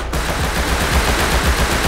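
Tommy gun fire in Rust during an online raid, a dense sustained burst of rapid automatic shots that runs loud and continuous with no pauses.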